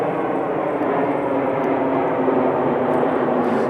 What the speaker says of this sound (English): And that's an aeroplane.